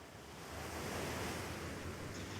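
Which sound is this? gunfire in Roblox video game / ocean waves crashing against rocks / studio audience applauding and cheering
ocean waves crashing against rocks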